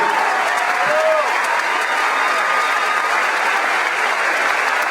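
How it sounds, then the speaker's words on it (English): Crowd at a political rally breaking into sustained applause and cheering, dense and continuous throughout, with faint voices mixed in. "Please give a round of applause to Bobby."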